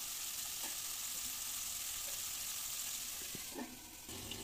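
Potato pieces fry in oil in a covered pan, giving a steady, loud, continuous sizzle with a few soft clinks of the lid or spoon.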